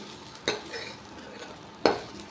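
Bitter gourd and onion slices frying in a pan give a soft, steady sizzle, broken twice by sharp scraping clatters as a spoon stirs them, close by and fairly quiet, with no voices.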